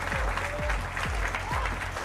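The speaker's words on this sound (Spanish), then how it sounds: "Nuevamente, un fuerte aplauso." Applause fills the space from start to end, a steady wash of clapping during a live player-pack stream, with a few short sweeping synthetic tones layered over it.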